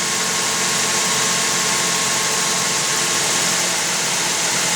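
A car engine runs at a steady idle during a coolant fill, a loud continuous hum with a faint tonal whine and even vibration throughout, no speech.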